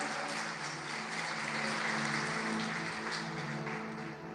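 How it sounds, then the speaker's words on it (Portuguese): A church congregation claps together during a sermon, a continuous dense spread of applause with steady tonal hum beneath it, lasting evenly across several seconds. "Aplauda o nome do Senhor Jesus."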